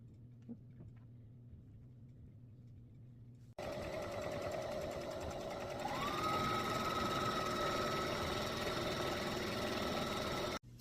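Up close, a sewing machine stitches an oven mitt along a drawn line, starting with a sudden steady whirring drone after a quiet stretch, picking up speed partway through, then stopping abruptly.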